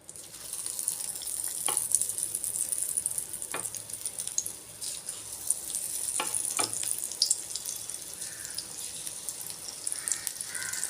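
Prawns fry in hot oil, a steady crackling sizzle held for several seconds with occasional sharp clicks and knocks from the pan, no one speaking.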